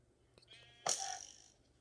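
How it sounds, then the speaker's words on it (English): A single sheep bleat from Minecraft rings out clearly after a few faint clicks, then trails off quietly. "Sheep. Yeah, sheep."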